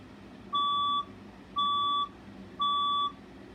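Fire alarm test tone sounding three times in a steady rhythm, each long, loud electronic beep lasting about half a second with even gaps and a low room hum between.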